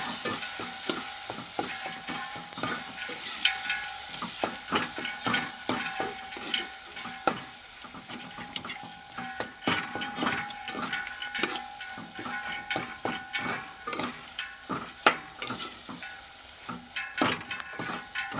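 Cooked masala is stirred and mixed in a pan: a quick irregular run of close scraping and tapping strokes over a soft, continuous sizzle.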